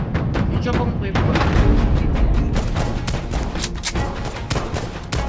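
Loud, dense gunfire from a Roblox shooting game, with rapid repeated shots and booms layered over each other in a continuous battle din.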